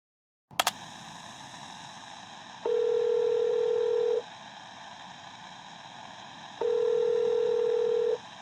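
A phone call goes unanswered in a Modern Warfare III Zombies audio log: a sharp click, then two long electronic ringback tones separated by a pause, over a steady faint line hiss.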